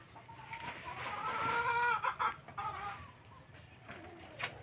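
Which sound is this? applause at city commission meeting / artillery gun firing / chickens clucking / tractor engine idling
chickens clucking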